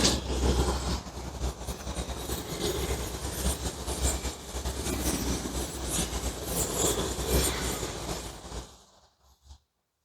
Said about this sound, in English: We have a second train of the day.